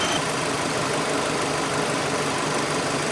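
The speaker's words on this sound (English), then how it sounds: "here's a visual of the AC compressor clutch engaged." A car engine idling steadily with the AC compressor clutch engaged, a constant close mechanical hum and whir with a faint rhythmic knock, no voices.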